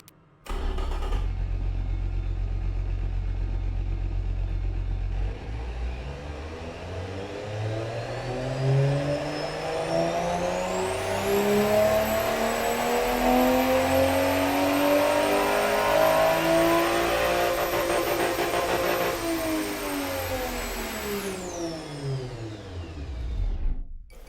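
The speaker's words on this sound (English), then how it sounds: "you know we got to give her one more run on the dyno" A simulated 980 hp pump-gas 2JZ engine in the AutoMation game runs on a dyno, idling briefly before revving in one long sweep to a high, screaming peak, holding, then winding back down, loud and alone.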